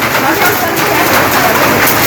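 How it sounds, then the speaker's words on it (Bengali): First rain of the year falls on a Bangladesh village in a steady, even hiss of drops, close and continuous, while people talk beneath it. "বছরে প্রথম বৃষ্টি তো আসছে"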